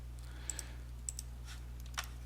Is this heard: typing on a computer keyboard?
yes